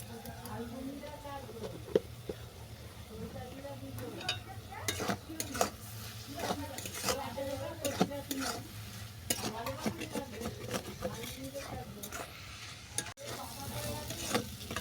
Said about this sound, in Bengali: এরপর সমস্ত উপকরণের সঙ্গে ধুয়ে রাখা মুড়িটা ভালো করে ভেজে নিচ্ছি এটা দু তিন মিনিট ধরে